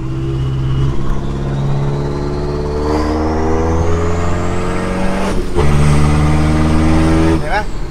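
A modified street car idles with a steady low rumble, then revs up with a rising whine as gears are shifted quickly, the engine note dropping and climbing again, with people talking over it nearby.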